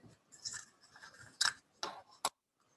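Scissors snip beading thread, giving a few quiet, sharp cuts in close succession near the end, with faint rustling before them and no talk.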